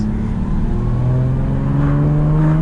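A 1979 Jaguar XJ-S with a five-speed manual conversion drones and rises in pitch as it accelerates, a steady throaty exhaust note close by, no talking.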